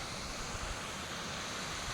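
Waterfalls tumbling down a mountainside in the Lake District near Stickle Tarn, a steady broadband rush of falling water heard from a distance, continuous and even with no other sounds.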